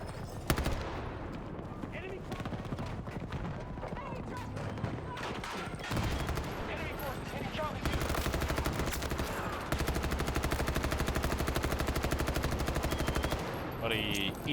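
Machine gun fire rattles through a video game trailer, rapid continuous bursts building to a sustained loud stretch in the second half, with voices and shouts mixed in early on.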